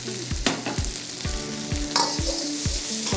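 Prawns fry with onion tomato paste in a pan, a bright continuous sizzle broken by repeated scraping stirs at a steady rhythm, close and loud with no talk.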